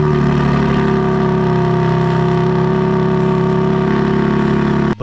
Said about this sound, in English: Have you ever heard a G8X M3 or M4 cold start with probably an aftermarket mid-pipe or downpipe?